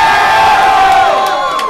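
A live crowd at a rap battle cheers and shouts loudly, a dense, continuous roar of many voices close by, sustained through the whole moment.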